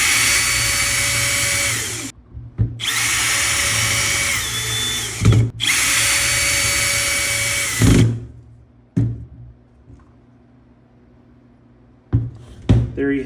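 A power drill drives three screws into a wooden turkey fan mount in loud, steady whirring bursts of about two seconds each, separated by short pauses, followed by a few sharp clicks and knocks as the work is handled.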